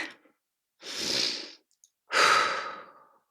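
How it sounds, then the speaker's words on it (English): Two deep breaths taken alone in quiet, a long airy inhale followed after a pause by a fuller exhale, close and clear. "The first thing you do is you take a deep breath."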